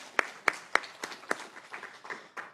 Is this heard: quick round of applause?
yes